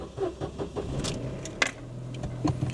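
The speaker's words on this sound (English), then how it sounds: "Slight timing chain rattle there." A used Opel Corsa B fires up nearby, a brief crank and catch before the engine settles into a steady idle with a faint timing chain rattle, amid jingling keys and cabin clatter.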